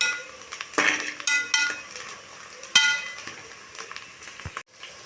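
Onions frying in a pan for mushroom biryani, a steady soft sizzle punctuated by metal spoon scrapes and clinks against the pan as they are stirred.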